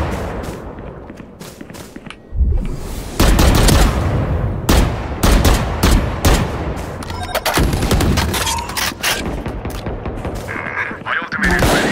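Gunfire from a gun in a first-person shooter video game, rapid bursts of loud shots that continue across the clip with dense game effects and no voices.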